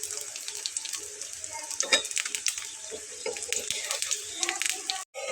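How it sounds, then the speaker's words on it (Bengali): Garlic paratha fries in a hot frying pan, giving a steady close sizzle with crackling bursts and brief scraping of the bread being turned, then a short gap near the end. "হালকা হালকা করে লাল লাল করে ভেজে নেব।"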